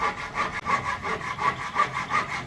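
A hand saw cutting wood in quick, regular back-and-forth strokes, close and loud, a rasping rhythm of about three strokes per second.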